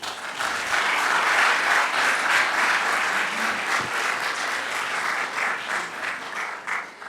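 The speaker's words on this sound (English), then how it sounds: "ask that we clap again for Yao." An audience at an annual ethics lecture breaks into sustained, dense applause, many hands clapping loudly and evenly for several seconds before thinning slightly at the end, with no speech over it.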